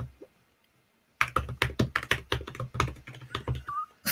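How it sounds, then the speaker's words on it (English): Furious, rapid typing on a computer keyboard starts abruptly after a near-silent second, a dense close run of loud clacking keystrokes that continues to the end. "That is the most furious typing"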